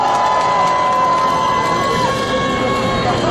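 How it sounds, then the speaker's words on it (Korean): A large street crowd at a weekly candlelight protest rally in Seoul claps and cheers, a loud continuous roar with scattered whoops and shouts filling the whole stretch. "응원의 박수를 보내보겠습니다"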